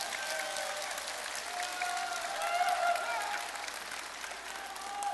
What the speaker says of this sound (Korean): 공감하시면 박수 한번 더 쳐주시기 바랍니다